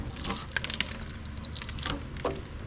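Liquid drains and splashes from the engine oil pan of an Allis Chalmers Model D grader, an irregular trickling and dripping at low level with no speech.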